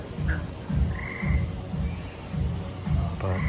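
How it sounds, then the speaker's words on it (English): Croaking of a green frog and a bullfrog played at a museum wildlife exhibit: a steady run of low, throaty croaks repeating in a loose rhythm, fairly close and moderately loud, with a few faint higher calls over it. "So that's what the green frog sounds like, the bullfrog."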